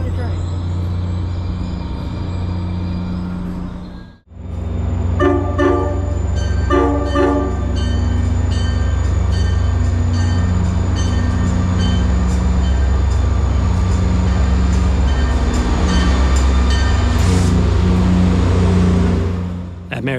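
Commuter train 6862, bound for Danbury from the Merritt 7 station, runs past with a loud, steady rumble and a sustained tonal, horn-like sound over it.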